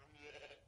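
A single goat bleat, brief and very faint, wavering in pitch and heard alone without talk.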